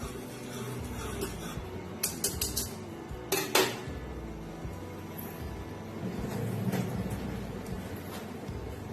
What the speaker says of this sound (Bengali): আবার সব মিশিয়ে নেব।